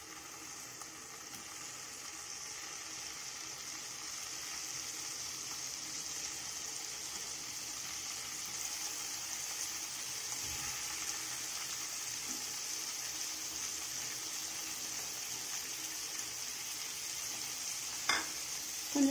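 Paneer frying in butter until golden brown, a steady close hiss of sizzling fat that holds evenly throughout, with a couple of faint clinks near the end.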